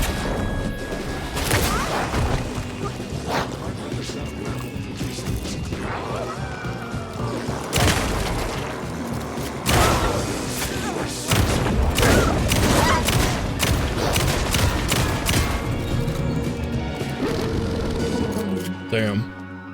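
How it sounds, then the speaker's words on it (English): Heart missiles are fired at the player in the Alan Wake II horror game, a barrage of sharp percussive impacts and crashes striking in rapid irregular bursts over a loud, busy soundscape, with a voice talking over parts of it. "Shooting heart missiles at me."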